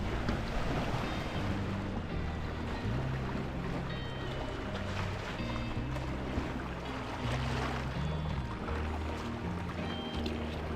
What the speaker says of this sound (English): Just going to keep jibing away down the lake.